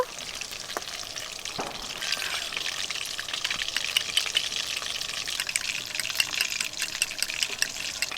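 Chilli fish frying in a pan with vinegar added, a soft steady sizzle and crackle with occasional light stirring scrapes, fairly quiet and close, no talking.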